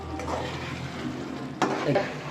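Chopped coriander is stirred into egg masala in a pan, with soft scraping and faint sizzling, then a sharper clink of a spoon against the pan followed by a few light scrapes.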